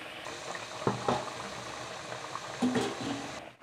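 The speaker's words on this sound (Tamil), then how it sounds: "ஒவ்வொன்றா எடுத்து ஆயிலில் நம்ம இப்படி போடுறோம்" Thanjavur roll crackers bubble and sizzle steadily in hot oil, a continuous close frying hiss broken by a few soft clinks and splashes as pieces go in.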